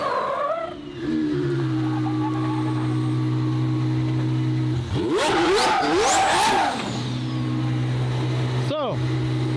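A car engine holds a steady idle, then revs hard through a rising, sweeping acceleration for a couple of seconds before settling back to idle, close and loud, with a quick final blip.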